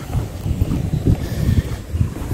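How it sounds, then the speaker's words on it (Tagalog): Strong wind buffets the microphone outdoors near a ferry terminal, gusting in loud, uneven low rumbles throughout, with no talk. "Malakas yung hangin ngayon guys."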